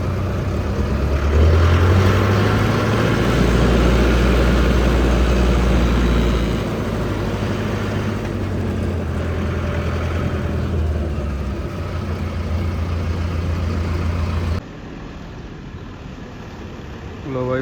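A Swaraj 855 tractor engine idles with a steady, deep, low rumble close by while people talk over it. Near the end the engine noise drops away sharply.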